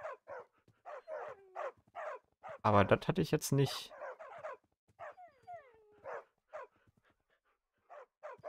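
Several Minecraft dogs in the FTB Revelation modpack bark and whimper in a steady series of short, repeated yips, with someone talking over them midway through.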